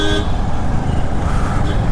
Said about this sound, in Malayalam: പോലീസാണോ ഈ ഹോൺ അടിക്കുന്നത്?